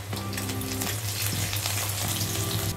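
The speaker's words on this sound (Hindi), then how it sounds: "लहसुन को थोड़ा सा हम सौते करके ले लेते हैं।" Steady close sizzling of garlic sautéing in hot oil, crackly and continuous, with a low hum underneath and no talking.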